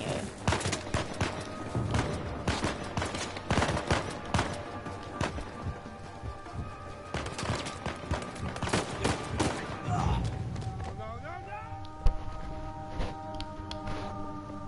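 Enemy gunfire in Uncharted 4, with scattered shots and short bursts under a busy game soundscape, plus thuds and footsteps, easing off toward a quieter stretch near the end.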